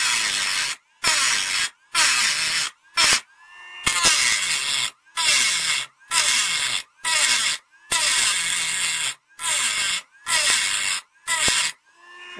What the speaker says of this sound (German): in diesem Fall schleife ich die einfach mal ein bisschen weg